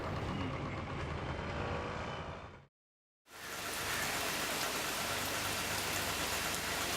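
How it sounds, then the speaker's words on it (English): Steady broadband rain falling continuously, loud and close, with a brief gap of silence partway through before the downpour resumes. "It started raining from the first day itself."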